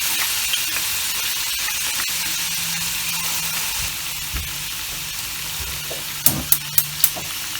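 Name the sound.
prawns and tofu frying for pad thai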